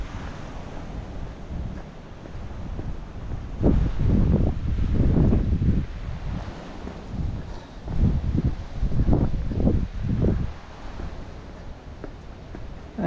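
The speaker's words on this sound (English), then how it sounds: "Start walking with the wind again." Wind gusting against a microphone during a walk along a beach, a steady low roar swelling into heavy buffeting bursts near and loud, with no talking.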